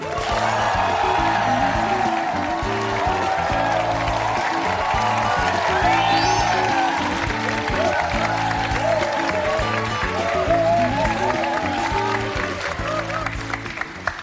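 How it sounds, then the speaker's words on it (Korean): A studio audience gives a long, loud, steady round of applause to welcome a guest, a former head of Samcheok Medical Center, onto a talk show while rhythmic music plays beneath. "박수로 모시겠습니다."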